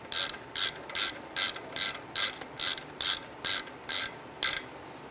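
Hand ratchet clicking in a quick, even rhythm while snugging brake caliper bolts on a 2003-2007 Jeep Liberty, about a dozen crisp close strokes.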